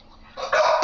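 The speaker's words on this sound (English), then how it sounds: "Male dog in heat." Short sharp barks from a male dog in heat, two quick close yelps rising in loudness over a quiet room background.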